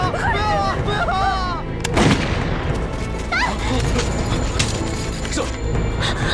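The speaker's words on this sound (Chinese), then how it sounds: "这枪声好像是从石头家的方向传过来的。" Gunfire cracks out in a tense period-drama scene, with a sharp loud burst near the start and further shots amid dense noisy background; voices are heard in the mix.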